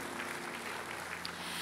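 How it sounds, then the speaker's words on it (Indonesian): A congregation at an online church service applauds, a faint, steady wash of many hands clapping at a distance with no talk over it. "Berikan tepuk tangan yang terbaik buat Tuhan Yesus"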